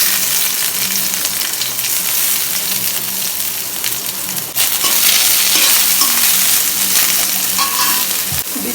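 Chopped onion frying in hot soybean oil in a wok for chapti noodles, a loud steady hiss and crackle held throughout, with a brief stir and scrape partway through, close up and without speech.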